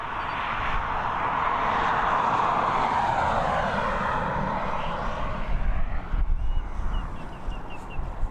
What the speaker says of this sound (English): The plane was landing